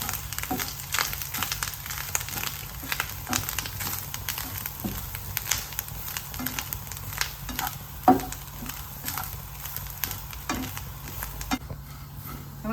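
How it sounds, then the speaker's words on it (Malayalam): Grated coconut roasting in a spoonful of coconut oil in a pan, a steady soft sizzle with crackles and scraping stirs throughout, one sharper clink near the middle, close and moderately loud with no talk. "തേങ്ങയൊക്കെ മൂത്ത് വന്നോണ്ടിരിക്കേ നല്ല വറുത്ത് വരണേ"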